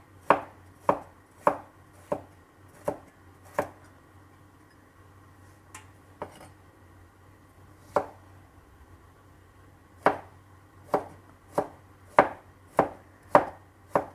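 Knife chopping on a board in short bursts of sharp, evenly spaced thuds while slicing vegetables, with a pause midway before the rhythm resumes; close and clear, no talking.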